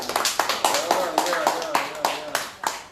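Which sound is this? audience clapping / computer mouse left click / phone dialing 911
audience clapping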